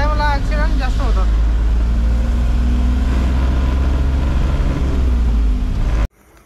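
A loaded truck grinds uphill on a winding road in the rain, its engine a steady heavy drone close by with road and rain noise; someone talks over it near the start before the sound cuts off abruptly.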